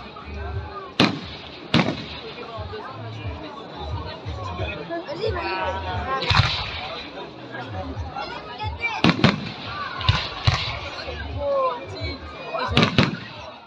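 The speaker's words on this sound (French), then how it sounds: "Le feu d'artifice de Marconne s'est déroulé mercredi dernier aux alentours de 23h15." Fireworks display at Marconne in Pas-de-Calais, late at night, with several sharp booming bursts scattered across the stretch and crackling between them, while a crowd chatters and talks nearby.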